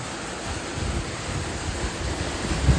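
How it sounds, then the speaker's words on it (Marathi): Water rushing steadily from a three-inch pipe fed by a 7.5 HP Shakti solar pump, a continuous broadband gush heard up close with no talk. "तुम्ही पाण्याचा प्रेशर बघू शकता किती सुंदर असा प्रेशर आहे"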